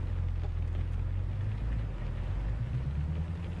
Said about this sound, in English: is the engine noise too loud?